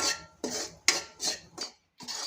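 Wheat flour stirred as it roasts in a pan: a spoon scrapes across the pan in about five separate strokes, each a short, moderately loud rasp with brief pauses between, and no voices.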